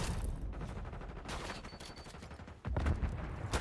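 Rapid bursts of gunfire in a Call of Duty match, a steady fusillade of automatic shots with heavier blasts near the end, loud and close throughout.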